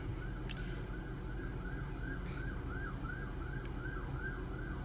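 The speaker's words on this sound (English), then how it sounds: "Hearing sirens." A distant wailing siren sweeps up and down repeatedly over a steady rumble of traffic, with a brief sharp noise near the start.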